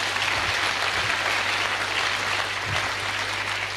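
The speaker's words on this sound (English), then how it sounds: "But clap for him before he sits." Audience applause at a church gathering runs steady and even for a few seconds, a soft wash of many hands clapping at a moderate distance with no talk over it.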